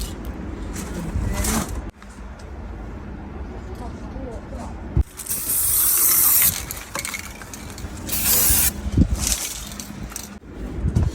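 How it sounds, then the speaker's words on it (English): WD-40 lubricant sprayed around the engine bay of a Cupra 280 car comes in a few short, hissing aerosol bursts amid metallic clicks and handling noises, with people talking nearby. "Just put lubricant spray."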